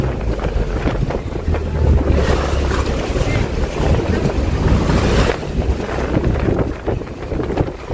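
A small tour boat pounds through strong waves off El Nido, Palawan, with loud rushing water, heavy wind buffeting the microphone and a low engine hum underneath throughout.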